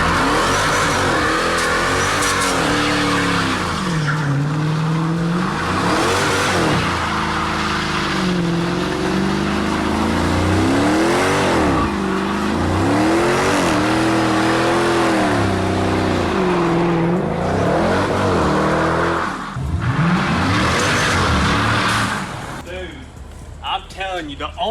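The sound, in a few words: supercharged car doing a burnout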